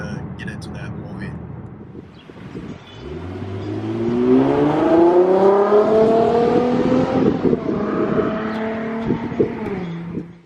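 A V6 Ford Mustang with an aftermarket exhaust revs up with a deep, throaty exhaust growl, rising in pitch and then holding steady, loud and close.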